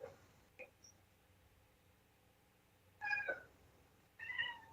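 A cat meows a few times during a Citizens Advisory Board meeting, with a brief chirp, then two longer drawn-out meows close by in a quiet room, without talking.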